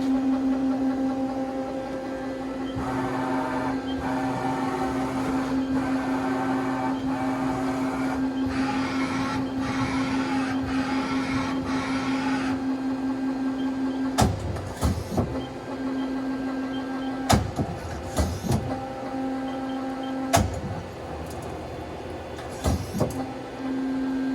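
Mori Seiki SL25-B5 CNC turning center with a chip conveyor runs with a steady tonal hum and mechanical whir, broken later by several loud clunks and clacks of moving parts; no one speaks.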